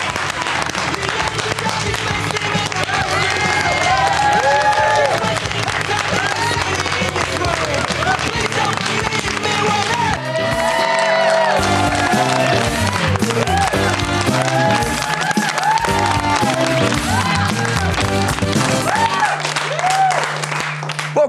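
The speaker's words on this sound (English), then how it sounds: "give another round of applause to anyone for tennis" Studio audience applause and cheering on a Monday night television show, a loud sustained wash of clapping with whoops and shouts, dipping briefly midway then continuing strong, with voices mixed in.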